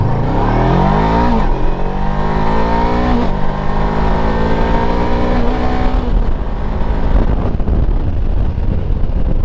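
A 2021 VOGE 500DS motorcycle accelerates hard from a standstill to 60 up a slight incline, engine revving up through the gears with steady wind buffeting throughout, loud and close.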